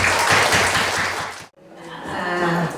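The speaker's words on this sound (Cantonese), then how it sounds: "咁我再俾一次熱烈掌聲歡迎" An audience at a church testimony gathering breaks into warm, dense applause for about a second and a half, then the clapping cuts off abruptly and quieter room sound follows.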